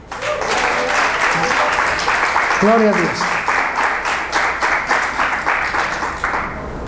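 A church congregation claps in a loud, rhythmic wave of applause filling the room, while a voice briefly calls out over it midway.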